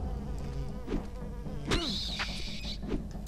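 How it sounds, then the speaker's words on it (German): Flying insect-like creature in the Silent Hill 4 video game, a wavering buzz over a steady game ambience with a few thuds and a brighter whine in the middle, fairly close. "Summen wie so ein Insekt."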